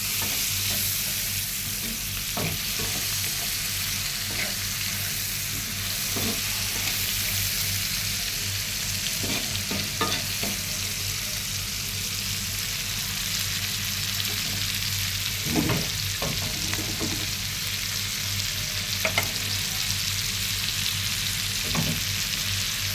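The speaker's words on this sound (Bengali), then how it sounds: "আমি এখন পাট শাক, চিংড়ি মাছ দিয়ে পাট শাক ভাজি" Jute leaves stir-fried with prawns in a pan give a constant close sizzle, broken by occasional scraping knocks of a utensil stirring, with no voices.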